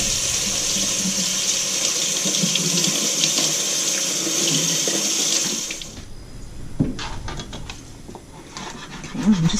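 Tap water runs steadily into a sink while fresh cilantro is washed, a loud continuous splashing stream that cuts off partway, followed by quieter handling noises and drips.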